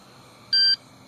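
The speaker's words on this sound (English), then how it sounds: "And you'll hear 2 beeps." A single steady electronic beep from a Swagtron T5 scooter calibrating, bright and fairly loud, lasting about a quarter second against a quiet background hum.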